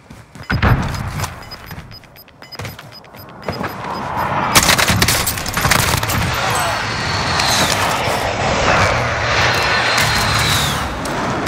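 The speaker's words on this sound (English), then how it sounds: "Be advised, friendly precision airstrike inbound." In a Call of Duty match, a fixed-wing aircraft roars overhead for a precision airstrike, its engine swelling into a sustained loud rush after a burst of scattered gunfire and impacts.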